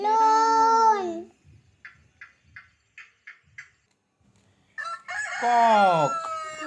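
A rooster crows loudly and up close, then a series of short clucks follows, and another full crow rings out near the end.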